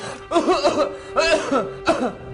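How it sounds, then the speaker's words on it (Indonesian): Someone deliberately coughs three times in short bursts, a pause between each, close and fairly loud, each burst breathy and voiced. "Nggak juga aku batuk-batukin."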